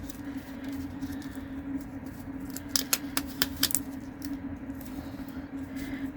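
Scissors snip through the end of a handmade light-up reindeer card with copper tape, a quick cluster of sharp crisp cuts in the middle over a steady low background hum.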